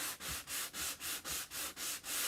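Sanding block rubbed back and forth over a chalk-painted board, a steady rhythmic scratchy rasp of about nine even strokes, close and fairly quiet with no talking.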